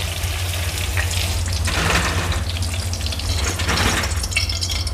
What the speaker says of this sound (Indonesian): Tahunya ini kita goreng sampai matang ya, kering berwarna kuning kecoklatan.